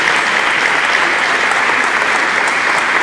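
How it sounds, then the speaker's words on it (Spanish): Dense, loud applause from a congress audience welcoming panel guests, a steady wash of many hands clapping throughout. "Un fuerte aplauso para recibirlos."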